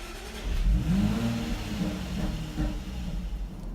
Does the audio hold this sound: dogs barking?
no